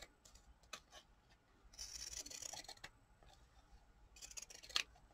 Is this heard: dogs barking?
no